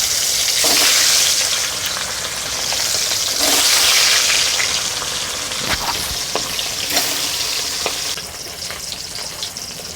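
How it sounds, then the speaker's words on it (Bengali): Pangas and tengra fish frying in a deep pool of hot oil give a loud, steady, close sizzle that swells and eases, with occasional stirring scrapes and no voices. "মাছ ভাজছি দেখুন"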